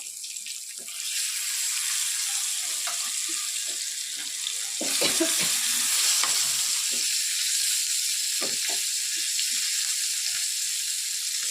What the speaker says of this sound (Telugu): ఇలా నీట్గా ఫ్రై చేసుకోవాలి వీటిని తిప్పుదాము